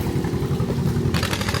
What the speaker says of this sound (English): And there's another loud tractor. This guy on this John Deere 40.